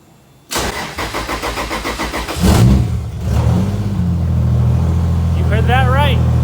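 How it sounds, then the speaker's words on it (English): A Nissan S13 240SX fitted with a 1.5JZ engine cranks with a rapid rhythmic whirr, catches, revs briefly, then settles into a loud, steady idle close by. "the S13 is officially running"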